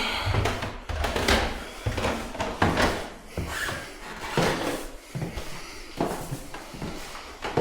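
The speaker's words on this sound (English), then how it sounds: "Creaky stairs." Creaky wooden stairs in an old house, a series of irregular creaks, thuds and footfalls at close range as someone moves on them, with no talk.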